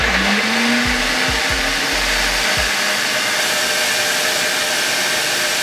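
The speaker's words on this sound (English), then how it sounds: "chop that in half and then pop it straight in the blender" A blender chopping onion whirs loudly and close, its motor pitch dipping and surging in a few pulses as it chops, then settling into a steady high whine.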